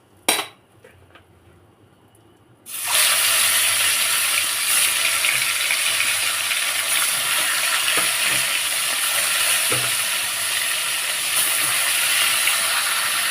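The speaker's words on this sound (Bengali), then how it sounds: "কড়া গরম হয়ে গেছে একটু লবণ দিয়েছি যাতে মাছ সহজে উঠে যায়" Fish frying in a hot kadai of oil with a little salt starts after quiet utensil clinks, then a loud, steady sizzle and crackle fills the rest, close up, with no talking.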